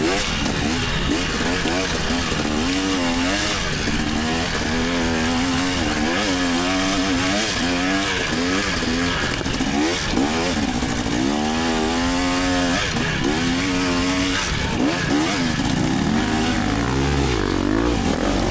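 A Honda motorcycle engine drones and revs continuously, its pitch climbing and dropping repeatedly, loud and close throughout.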